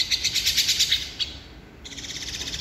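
A baby bird calls while being hand-fed, with rapid bursts of shrill, close chirps in a pulsing rhythm, a short pause, then another run of insistent begging cries.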